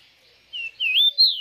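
A tico-tico, the rufous-collared sparrow, sings a short clear phrase of three or four rising and falling whistled notes, close and bright against near silence.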